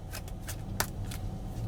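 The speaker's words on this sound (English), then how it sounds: "I shuffled and got the same card again, Nancy Pelosi as well." Tarot cards being shuffled by hand, a few quick papery riffles and flicks over a steady low background hum, close and fairly quiet.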